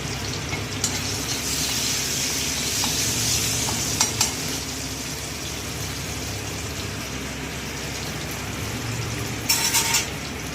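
Garlic frying in a pan, an even, dense sizzle running throughout with a few spoon clicks and a louder scrape near the end, moderately loud and no one speaking.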